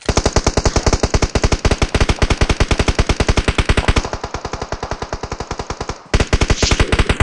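Rapid, steady automatic gunfire in a PUBG Mobile squad fight, loud and continuous for several seconds with a brief drop in intensity, then a short gap before the fire resumes; no voices are heard over it.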